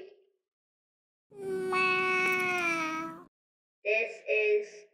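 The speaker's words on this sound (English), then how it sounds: "This is our kitty." A cartoon kitty from Mars meows in an animated kids' show, one long drawn-out meow followed by two short meows after a pause, clear and close.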